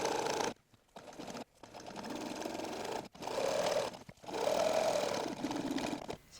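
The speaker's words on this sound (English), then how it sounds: "Next step is just doing a top stitch along this pocket on the front of the shorts." A sewing machine top stitches a pocket on the front of shorts in several close, steady whirring runs broken by short silent stops.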